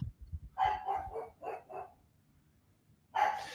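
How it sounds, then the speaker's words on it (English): A dog gives a quick run of four or five sharp barks, falls quiet for a moment, then lets out one more bark, fairly close in an otherwise quiet room. "Biscuit's barking for some reason."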